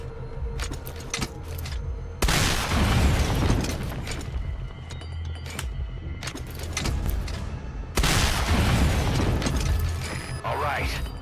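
In the Metal Gear Solid V video game, two heavy explosions destroy an anti-air emplacement and an armored vehicle, each a sudden loud roaring burst that rumbles and fades amid constant clattering game noise.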